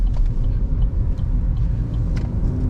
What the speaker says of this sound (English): you can hear this car, listen